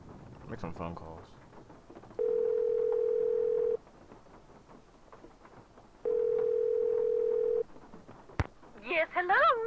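In a Nancy Drew video game, a telephone dial tone sounds twice in long steady bursts between soft background sounds, followed by a quick dialing click and a burst of warbling ring tones.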